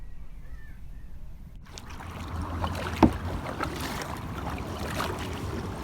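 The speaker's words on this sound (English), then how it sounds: "Come, Mr. Badger, keep paddling." Paddling a boat on a river, a soft continuous wash of water and wind after a silent opening, with one sharp knock or splash midway and crows cawing faintly in the background.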